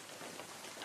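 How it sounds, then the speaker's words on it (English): Steady, soft patter of rain falling in the video game Unturned, an even broadband hiss with no voices. "Aw, it's raining."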